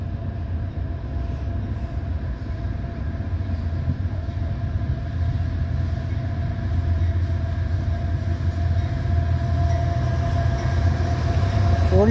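Norfolk Southern NS 216, a short northbound intermodal freight train, rumbles steadily past on track one, a close, continuous low roar that swells slightly toward the end, with no talking.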